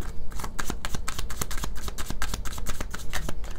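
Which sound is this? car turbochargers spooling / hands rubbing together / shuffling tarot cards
shuffling tarot cards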